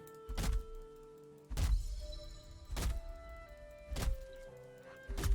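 An axe chopping a beech tree in Valheim, four heavy, evenly spaced woody thunks about a second apart, close and loud over a quiet musical background, with no voices.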